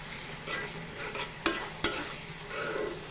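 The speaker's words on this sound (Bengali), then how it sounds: "ভালো করে কষিয়ে নিতে হবে।" Pangas fish head and tail pieces with chili powder and green chilies stir-fried in a pan, a soft ongoing sizzle with scraping stirs and two sharp clanks of a spatula against the pot.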